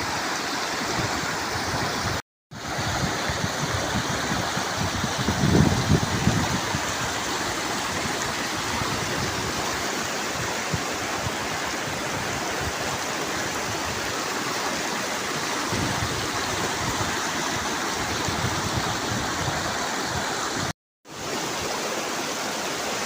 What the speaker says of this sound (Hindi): तुमको मैं दरियाए दौड़ का विजिट कराया है